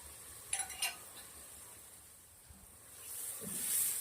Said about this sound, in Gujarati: લસણને થોડું સંતરાવા દેશું.